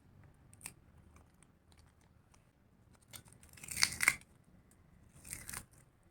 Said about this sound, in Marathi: अगदी पापडासारखीच पातळ असे हे पापड झालेले आहेत तोडताना आवाज ऐका